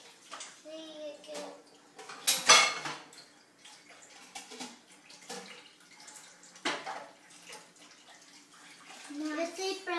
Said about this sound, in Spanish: ¿Están lavando todos los platos?